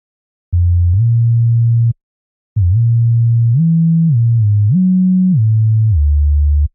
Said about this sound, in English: So now it's kind of gliding up and down in between notes, which is a cool sound.